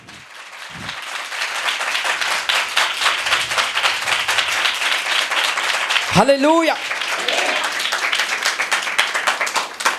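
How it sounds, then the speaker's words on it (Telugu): A church congregation claps together in a steady, dense stream of applause, with a voice calling out over it partway through. "Just give big claps to the lord."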